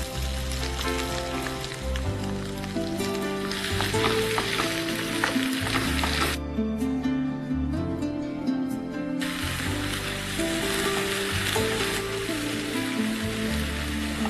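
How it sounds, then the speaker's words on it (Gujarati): Raw paste of three medium crushed onions hits hot gravy and fries with a loud, steady sizzle, with stirring scrapes throughout and no talking. "હવે આમાં ઓનિયન પેસ્ટ છે, 3 મીડિયમ સાઇઝની ડુંગળીને ક્રશ કરી લીધી છે, કાચી જ છે ડુંગળી, આમાં એડ કરીશું."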